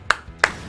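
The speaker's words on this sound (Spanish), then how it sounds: "cada vez que pasa algo aplaudo" Two sharp, bright hand claps about a third of a second apart, close and crisp over a quiet game background during Rainbow Six Siege play.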